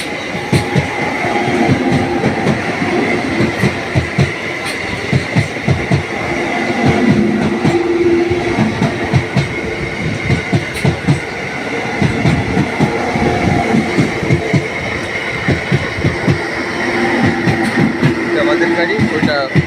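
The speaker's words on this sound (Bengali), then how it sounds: "ওই যে আরেকটা ট্রেন এদিকে আসছে" A train passes through Bandel railway station in West Bengal, with a steady rolling rumble and rhythmic wheel clatter on the rails running the whole time, while a person talks over it.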